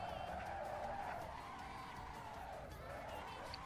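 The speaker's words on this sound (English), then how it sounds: "It's me spinning the car around." Tires screech as a car skids and spins around in a racing video game, a continuous squealing slide heard faintly and steadily with a low engine drone beneath.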